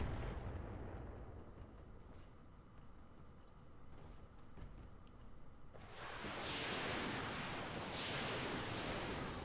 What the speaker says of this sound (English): It's a lot of missiles.